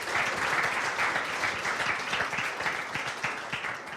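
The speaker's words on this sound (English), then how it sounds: "So a round of applause, please, for panelists." A panel discussion audience applauds the panelists, with dense, continuous clapping from a roomful of people, close and fairly loud, tapering slightly at the end.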